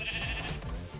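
Sheep in a modded game of Minecraft bleat in a short, wavering call, close and clear with no voices over it.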